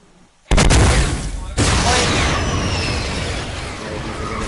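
Gunfire in a video game bursts in loud and close after a quiet moment, with a second heavy blast about a second later, then a sustained roar of shooting and rumble trailing on.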